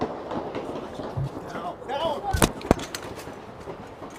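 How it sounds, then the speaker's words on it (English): A few sharp, loud bangs of gunfire ring out close together amid background murmuring voices and ambient noise. "Now, that was a lot of gunfire."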